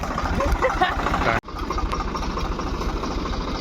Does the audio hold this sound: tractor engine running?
yes